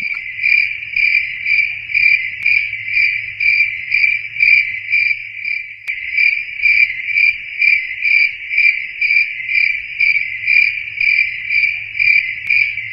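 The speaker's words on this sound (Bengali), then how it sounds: "কানে শুধু চারিদিক থেকে ঝিঝি পোকা আর ব্যাঙের ডাক ভেসে আসছে।" Crickets chirp in a steady, fast pulsing trill that repeats without pause, loud and close, over a faint low hum, at night after rain, with frogs calling.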